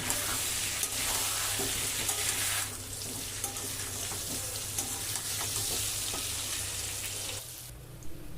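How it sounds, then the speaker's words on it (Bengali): Diced potatoes coated in salt and turmeric fry in hot oil with a steady close sizzle, soft stirring scrapes now and then, and the crackle dropping away near the end. "আলুর মধ্যে দিয়ে দিলাম হাফ চামচ নুন আর হাফ চামচ হলুদ গুঁড়ো নুন হলুদ তো আলুর সাথে মিশিয়ে আলুটা ভেজে নেব"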